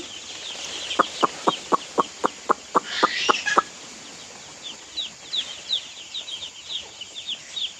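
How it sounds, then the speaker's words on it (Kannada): Day-old baby chicks on a farm peep constantly in high, thin chirps close by. About ten evenly spaced pulsed calls come early on, then the peeping goes on in uneven bursts. "ನೋಡಿದ್ರಲ್ವಾ ಹೇಗಿದೆ ಫಸ್ಟ್ ಡೇ ಮರಿ"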